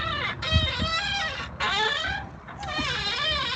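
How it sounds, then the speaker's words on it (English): A Tesla Model X with a suspension fault groans while maneuvering at parking-lot speed. Loud, harmonic, honking creaks come in three drawn-out bursts that swoop in pitch, close and clear, with no talking. "It's the sound of the suspension on one of their Model X's"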